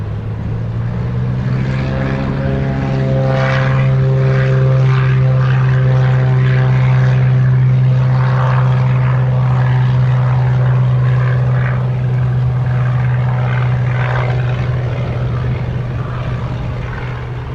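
A propeller plane roars steadily on takeoff from runway 07 at Montego Bay, loud and close, its deep droning hum sustained throughout with a rough, buzzing engine texture.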